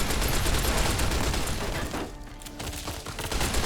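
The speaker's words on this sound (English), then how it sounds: "We're getting pelted with bullets." Dense gunfire rattles almost continuously in a battle in the Fallout: New Vegas video game, loud bursts thinning briefly before picking back up, with explosions around and no talk.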